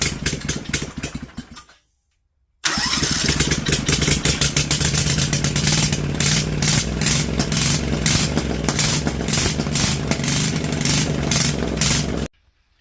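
A Vanguard 16HP engine with rust in its cylinders cuts out briefly, then restarts and holds full throttle, a loud, steady, rapid clattering roar close by that runs until it stops abruptly near the end.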